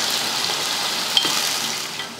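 About 300 grams of large onions sautéing in oil with whole spices for chicken dum biryani, giving a steady, close hiss with a faint stir or clink, and no talking.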